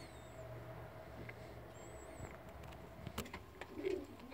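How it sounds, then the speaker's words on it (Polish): Long-distance racing pigeons give soft, faint low coos in a quiet loft, with occasional light rustles and small clicks nearby. "Dwa gołębie dalekodystansowe razem sparowane."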